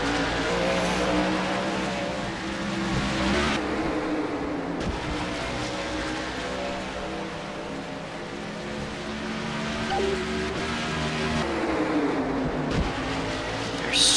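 Race cars in the Second Life video game Fast Friday round at Key Fuego roar past with continuous engine drone, tire squeal and revving, shifting in pitch as the cars pass, loud and steady throughout.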